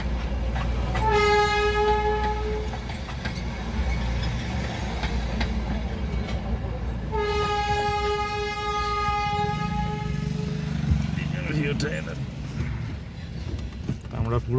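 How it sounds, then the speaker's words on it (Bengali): Darjeeling's steam-hauled toy train passes nearby with two long whistle blasts over a steady rumble of wheels and engine, amid roadside traffic noise. "আমরা জ্যামে আটকে আছি, টয় ট্রেনটা যাচ্ছে।"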